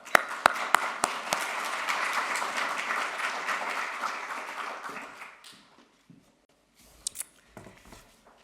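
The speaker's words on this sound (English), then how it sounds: "and a round of applause." Audience applause at the opening of a type 1 diabetes international meeting: a few sharp near claps lead into sustained dense clapping that fades out by the fifth second, followed by near silence and a couple of stray taps.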